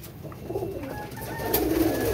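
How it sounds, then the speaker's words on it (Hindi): Pigeons coo softly in a close, quiet setting, a low throaty call rising toward the end over faint background noise. "ये जी कबूतर है"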